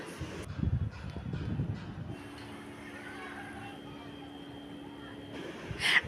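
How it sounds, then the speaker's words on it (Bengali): Inside a moving metro train carriage bound for Tollygunge, a steady low rumble and hum with a faint whine, plus brief noises at the start and end, close and moderate. "আজকেও সেই মেট্রোতেই রয়েছি আর গন্তব্য স্টেশন আমার টালিগঞ্জ"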